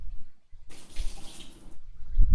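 Water gushing steadily from a tap or shower, a hissing rush that starts abruptly, runs for about a second, then stops, close and fairly loud.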